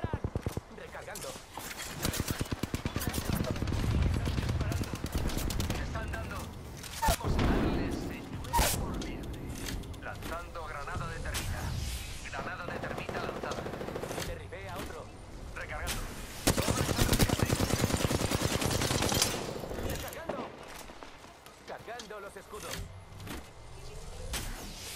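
Rapid bursts of automatic gunfire and shots fill a close firefight in the battle-royale game Apex Legends. The bursts are loud and nearly continuous, mixed with game effects and a voice talking over the action.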